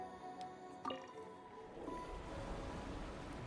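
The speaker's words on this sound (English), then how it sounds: "That will fill the empty middle chamber with water." Water rushes and fills the empty middle chamber behind a sluice gate in Genshin Impact, a few drips and a splash sounding before a steady low wash swells in, quiet and without talk.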